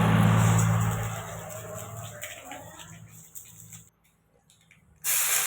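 Chana dal hits a hot iron kadai and sizzles loudly, then the hiss fades to a softer crackle, drops almost to silence and flares up again sharply near the end.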